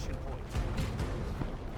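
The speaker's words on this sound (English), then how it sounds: "Plasma Cannon misses." A plasma cannon fires and misses in a Dawn of War 2 3v3 battle: heavy, rumbling low-end blasts over a dense wash of battlefield noise, with a couple of stronger booms near the middle.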